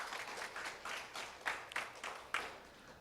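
An audience at a public-institution job idea competition applauds: a steady patter of claps, moderately distant, with a few sharper claps standing out.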